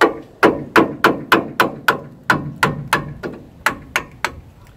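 A hammer taps sharply on rear brake parts of a Ford F-150 during a pad and rotor change, about fifteen close, metallic strikes in a steady rhythm with a short pause midway.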